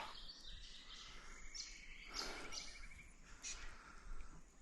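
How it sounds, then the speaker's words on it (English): Faint birdsong in the early morning beside a warm spring-fed stream gives scattered high chirps and calls over a soft, steady background hiss, with no voices. "Sound of the birds, early morning"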